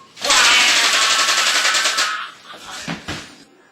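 A toy Nerf gun fires a rapid, continuous burst of shots for nearly two seconds, loud and close, then trails off into a few scattered clicks and rattles.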